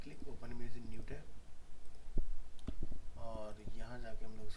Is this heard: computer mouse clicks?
yes